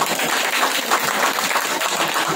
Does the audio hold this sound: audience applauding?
yes